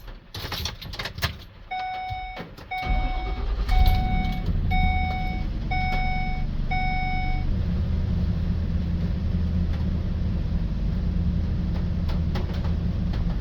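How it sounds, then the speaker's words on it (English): A Ford E Series Econoline van starts up: a handful of door-chime beeps ring out, the engine cranks, catches, then settles into a steady low idle rumble close by. "Now let's go ahead and start up the vehicle."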